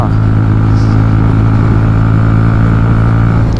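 Motorcycle riding along a road on a long highway trip, with its fuel down to reserve; a loud, steady engine drone with road and wind noise runs close and unbroken throughout, with no talk.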